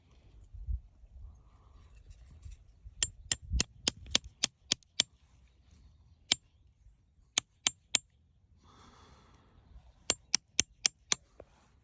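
Sharp metallic hammer strikes ring out in quick bursts of several blows, pausing between groups, as a sap tap is driven into a maple tree, over faint outdoor background noise.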